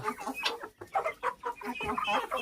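Hens clucking close by in quick, overlapping bursts of short throaty calls that continue steadily without pause, as a feed container is lifted.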